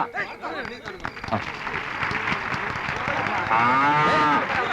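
Cows mooing repeatedly amid a noisy outdoor crowd at a cow handover, with people talking and a steady din of voices throughout.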